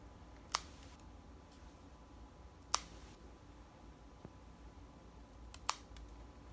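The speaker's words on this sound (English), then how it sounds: "These are cat toenail trimmers." Cat toenail trimmers clip a cat's front claws in a veterinary nursing setting: four sharp, separate snips spaced about a second or more apart, each crisp and close over a quiet room background.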